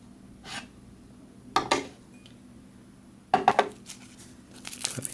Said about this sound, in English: I'm going to go ahead and transfer this into a smaller glass just for the presentation